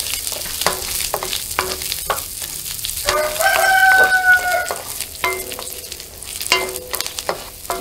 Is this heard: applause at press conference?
no